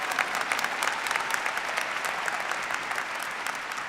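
A university commencement audience applauds, a dense sustained burst of many hands clapping close and loud across the hall, with faint crowd murmur mixed in.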